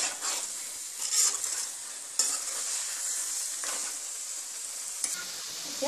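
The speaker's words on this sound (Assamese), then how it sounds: "পেষ্টখিনি খুব ভালকৈ ভাজি ল'ব লাগিব" Spice paste fries in a pan for chicken curry, crackling and hissing as it is stirred, with bursts of louder sizzle and occasional scrapes of a spoon against metal.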